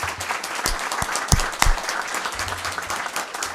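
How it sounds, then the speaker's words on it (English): A crowd applauds steadily, a dense wash of clapping with a few sharper individual claps standing out nearby. "I do want to give those two a big round of applause."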